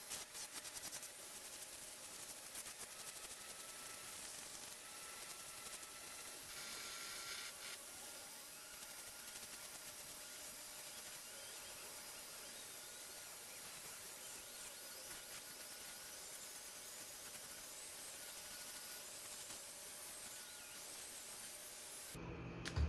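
A Dremel grinds lead off a lipless crankbait body in a continuous, steady high-pitched hiss and whir, close and unbroken for the whole stretch with no talk.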